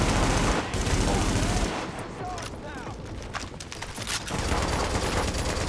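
Rapid automatic weapon fire in Tom Clancy's The Division, long loud bursts with a short pause, under a player's casual talk and battle noise.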